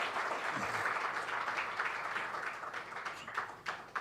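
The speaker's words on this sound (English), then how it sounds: "can we have a round of applause for Rajasthan and Gujarat?" A quiz audience at a corporate quiz cluster final applauds the Rajasthan and Gujarat teams, sustained dense clapping from many hands that tapers slightly toward the end.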